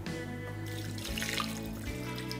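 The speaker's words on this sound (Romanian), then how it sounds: "Și acum cu apă o să pun astfel încât să am doar foarte puțină apă jos la bază." Water runs from a tap into a pot holding smoked ham, making a steady splashing trickle over a low background hum.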